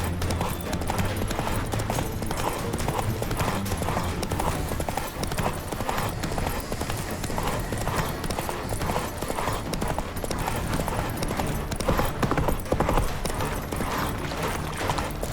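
Hooves of Roach, the horse in The Witcher 3, clip-clop in a steady galloping rhythm close by and loud throughout, with faint game ambience and a brief whinny-like touch.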